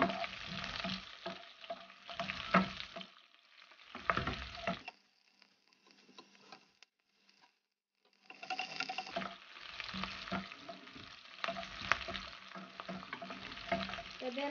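Onions sautéing in a pan for pork pochero hiss and crackle in loud bursts, with a quieter lull midway before the sizzling swells again, stirred at close range, no talking.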